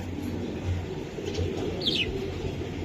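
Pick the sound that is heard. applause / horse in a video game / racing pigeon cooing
racing pigeon cooing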